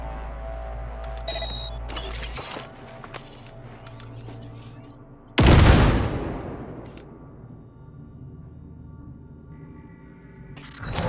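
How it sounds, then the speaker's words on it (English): A grenade detonates in the Cyberpunk 2077 game, one loud, sudden blast that rolls off into a long fading rumble after earlier mechanical clatter and clanks. "Now, detonate the grenade."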